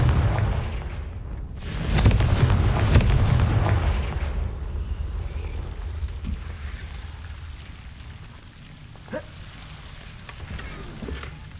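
A Confringo fire spell from the Hogwarts Legacy video game bursts in a loud, rumbling blast about two seconds in and lingers for a couple of seconds. A crackling, rain-like ambience then settles in, broken by a few faint later pops.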